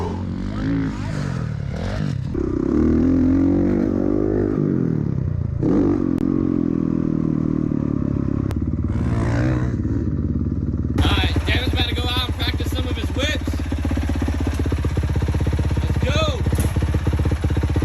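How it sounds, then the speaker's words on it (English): Dirt bike engine running steadily on a motocross track on a hot day, a continuous loud drone with rough mechanical rattle, briefly shifting in pitch, and voices speaking over it at the start. "One with the motorcycle."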